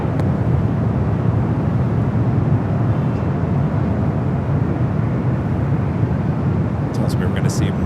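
Airliner rolling for takeoff on runway 24 left, the north runway at LAX, in gusty winds: a steady, loud broadband engine roar holds throughout without pause.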